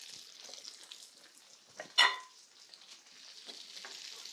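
Shrimp frying in a hot pan give a steady, moderately loud sizzle, with one sharp crackling burst partway through as the hiss flares, then settles back to an even fry.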